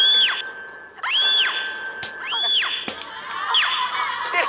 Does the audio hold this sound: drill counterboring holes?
no